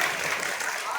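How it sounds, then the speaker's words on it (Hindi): Children clap together in a classroom-like gathering, a short burst of dense, bright patter that stays steady and close throughout. "बहुत गुड, ताली बजाओ भाई बच्चे।"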